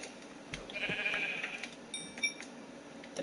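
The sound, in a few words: sheep bleating in Minecraft-style survival video game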